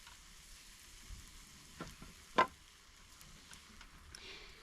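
A pancake fries in a pan over a small Solo Lite camping stove outdoors, a faint, steady low sizzle with a few soft ticks and one brief clink, no talking.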